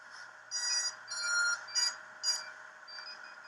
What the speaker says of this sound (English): the radio command once it's done doing all of its warm-up beeps.